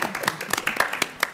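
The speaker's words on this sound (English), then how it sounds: "Yes, we can clap." A handful of scattered claps from the audience at a city-county public meeting on Confederate monuments and memorials, brief, sparse and uneven, with voices murmuring underneath.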